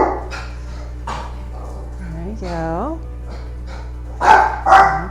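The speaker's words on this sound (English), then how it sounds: "dogs have to participate apparently" Dogs bark in a desert backyard while a person trims a bonsai made from a Christmas tree; a couple of loud yips and barks near the end, with whimpering tones earlier and talk running throughout.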